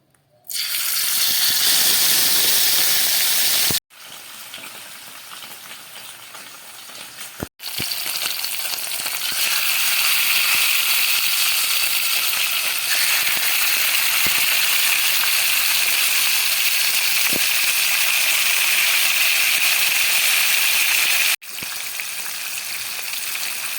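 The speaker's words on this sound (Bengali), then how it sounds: "এবার আমি মাছগুলোকে এর মধ্যে ভেজে নেব।" Bhola fish fry in hot mustard oil in a kadai with a loud, continuous, close-up sizzle that holds for over twenty seconds, broken only by a few brief cuts.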